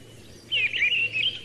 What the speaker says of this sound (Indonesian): mendengarkan merdunya kicau berbagai macam burung